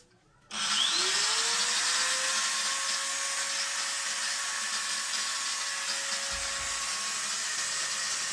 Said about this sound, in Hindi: मैं इसको जो है ग्राइंडर चला के आप लोगों को दिखाता हूँ